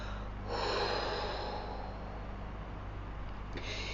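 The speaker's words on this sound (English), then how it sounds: "And then when you breathe out" A long, steady exhalation during a meditation exercise, breath pushed out slowly and evenly for several seconds over a faint hum, with a short fresh breath near the end.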